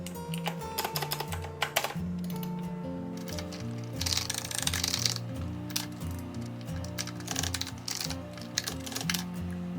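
Computer keyboard typing while editing text in ZWCAD drawing software, a busy stream of close clicks and keystrokes layered over a steady low hum with tonal background sound throughout.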